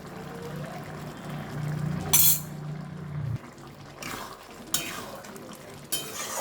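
A spoon scrapes and clanks around a pot of ghugni as a spice mix is stirred in, with a longer grinding scrape followed by a few sharp metallic knocks.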